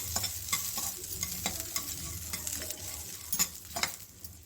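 A mixture with white sesame seeds roasts in a pan on a low flame. Soft sizzling runs under repeated scraping and stirring strokes, close up, with sharper clinks and scrapes now and then.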